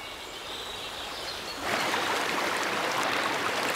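Water trickling and flowing at a source spring of the Danube, a quiet steady stream that grows louder and fuller partway through, with faint bird chirps, no talk.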